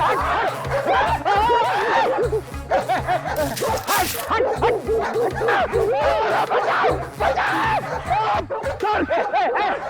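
A dog barks loudly and repeatedly in close, rapid bursts, mixed with yips, while people's voices and laughter come and go underneath.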